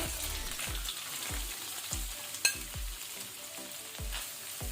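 Finely chopped onions frying on a low flame for paneer masala, a quiet steady sizzle broken by regular soft stirring taps roughly every half second, no talk.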